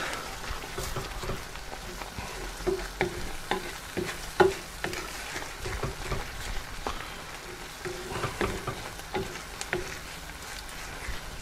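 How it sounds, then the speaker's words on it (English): Ladles of pre-made curry base are stirred into a sizzling dansak or pathia curry, with a constant low fry and frequent light spoon scrapes and taps at an even, unhurried pace. "Just a couple of small ladles, and mix that in."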